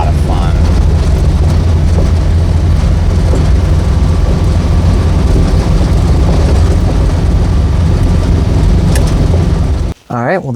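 A 1972 Saab 95 Wagon drives along a dirt road, with a loud steady engine drone and rumble from inside the car. Road noise runs throughout, then cuts off abruptly near the end.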